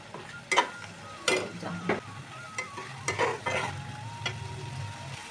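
Ground turmeric, chilli, coriander and cumin powders frying in a pan for a prawn malai curry, with a soft sizzle broken by repeated scraping stir strokes, close and fairly quiet.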